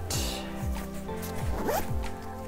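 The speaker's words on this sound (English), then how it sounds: "Unzip it here." A Wandrd VEER packable backpack being unzipped, several quick close rasping zipper pulls in a rapid run lasting about two seconds.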